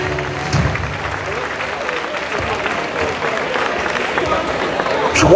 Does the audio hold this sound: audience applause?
yes